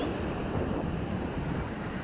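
Ocean waves wash along a beach shoreline in Faro, Portugal, a steady broadband surf hiss with some wind noise on the microphone and no clear talk.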